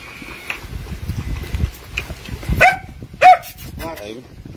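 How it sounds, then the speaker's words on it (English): Puppies on the leeward side of an island near an erupting volcano yip and bark in short bursts amid nearby shuffling and rustling, with a person speaking close by. "Look at these lovely puppies."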